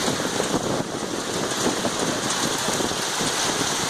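Hail pelts parked cars along a Bondi street during a hailstorm, a dense, continuous roar of icy pellets drumming on metal and pavement, loud and unbroken with no voices.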